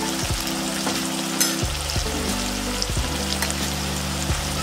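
Onion, garlic-chili paste, tomato and spices sizzle in a pan for a Gujarati moong dal, a loud, close, steady frying hiss with a few stirring clicks and no speech.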